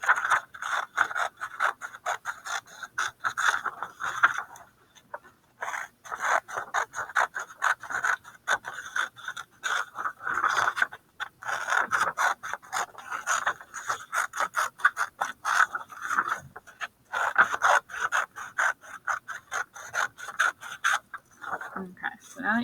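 Scissors cutting a paper border along a dashed line, a long run of rapid crisp snips and rustles with brief pauses between strokes, close and fairly loud.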